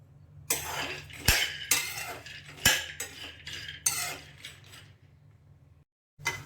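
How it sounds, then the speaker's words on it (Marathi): Peanuts dry roasting in a pan over a gas flame, scraped and tossed with a utensil in repeated clinking, rattling strokes with a few sharp metallic knocks, fairly close, ending in brief silence. "इकडे मी गॅस चालू करते बघा आणि आपले शेंगदाणे भाजायला टाकते।"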